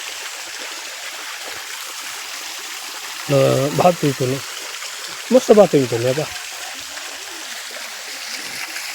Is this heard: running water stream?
yes